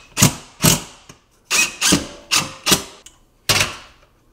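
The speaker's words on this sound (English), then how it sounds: "So we'll put these big lag bolts in" An impact driver hammers lag bolts into a wall to mount an over-the-range microwave hood, firing in about eight sharp, ratcheting bursts, close and distinct, separated by brief pauses.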